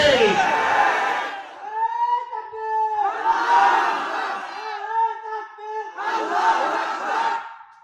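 Crowd chanting the Nara-e-Takbir slogan at a religious gathering: a leader's drawn-out call answered by a large crowd's loud unison shout, repeated three times in a call-and-response rhythm.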